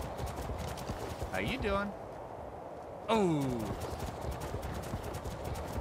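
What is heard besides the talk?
horse clip-clopping in video game Ark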